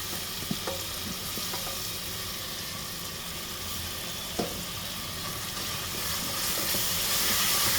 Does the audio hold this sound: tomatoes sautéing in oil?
yes